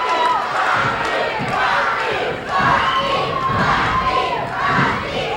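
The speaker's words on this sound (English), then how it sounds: "The crowd once again shouting for Rocky Brewer." A wrestling arena crowd roars and chants for Rocky Brewer, loud rhythmic shouting that swells in waves, with thuds from the ring mixed in.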